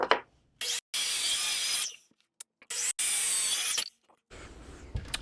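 Wood pieces being cut off with a hand saw in a woodworking shop: several bursts of close, rasping sawing strokes separated by short pauses, with no talking.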